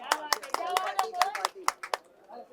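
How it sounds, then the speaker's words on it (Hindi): Scattered hand claps from a small group at a music launch event, sharp separate slaps in an uneven rhythm, close by, with a voice talking underneath. "ताली बजाओ यार इसके नाम पे।"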